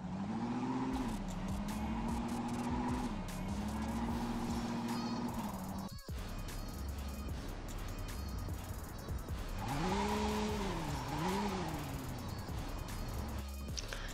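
A car drifting in the mobile game Car Parking Multiplayer, with a sustained engine whine and long tire squeals that rise and bend in pitch, a sharp break midway, then another squealing slide.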